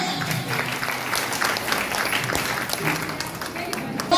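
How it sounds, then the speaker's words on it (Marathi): Audience applause at a Maratha women's association Mangalagaur celebration, a dense, steady patter of many hands clapping together, heard alongside voices in the room. "जोरदार टाळ्या."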